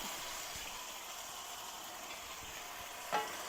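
Chicken curry with onions, thyme, ginger and garlic being stirred in a pot, giving a steady, even sizzle and simmer throughout with a single small knock near the end.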